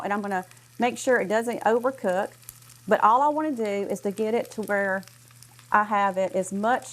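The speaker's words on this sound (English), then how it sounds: "and you can hear it sizzling right now" Corn fries in olive oil in a hot skillet, giving a faint, steady sizzle beneath someone speaking continuously throughout.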